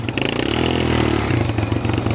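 A big motorcycle engine runs close by on a sandy outing in Saudi Arabia, a loud, rough rumble with clattering and slight shifts in pitch, and no talk.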